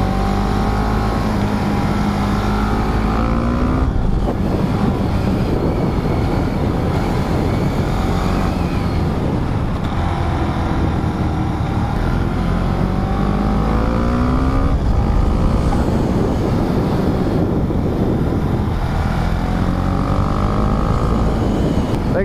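A Husqvarna 701 Svartpilen single-cylinder motorcycle engine while riding, a steady loud drone with rising and falling revs as gears change, wind noise mixed in, close and continuous without speech.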